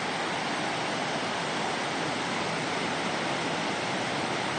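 Floodwater from Bastedo Creek at Lake of Bays, Muskoka, swollen in 2013 by heavy rain and winter snowmelt, rushes in a steady, dense, loud roar throughout with no speech.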